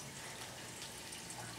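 Water placed in Minecraft gives a faint, steady trickling flow, like running tap water, lasting a moment with no talk over it.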